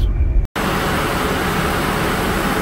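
Honda Accord EX V6 with about a quarter million miles idling, a steady broadband engine hum close to the microphone after a brief cut near the start, with no talking.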